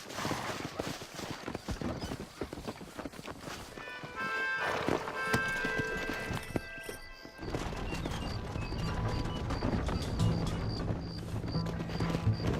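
Hooves thud and clatter at a run amid a busy mix of music and effects in the video game Red Dead Redemption, with a horse whinnying and faint voices in the background.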